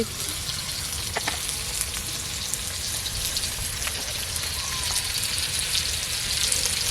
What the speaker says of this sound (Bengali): হলুদ দেব, দিয়ে আলুটাকে ভালো লাল লাল করে ভেজে নেব